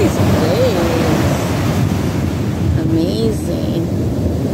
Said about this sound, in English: Wow, look at these waves.